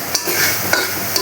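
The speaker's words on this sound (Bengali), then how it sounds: "গরম মশলা গুঁড়ো দিয়ে দিচ্ছি, এখন একটু নেড়ে চেড়ে পুরটা নামিয়ে নেব।" Cooked filling for naan puri being stirred in a pan after ground garam masala is added, with a steady soft sizzle and three brief scraping clinks of the spoon against the pan, close and alone.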